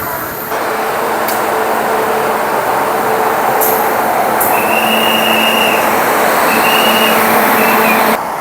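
A Garib Rath express hauled by a WP7 locomotive, running from Thiruvananthapuram North to Mumbai LTT, passes close by. A loud continuous roar of wheels and coaches carries thin metallic squeals throughout.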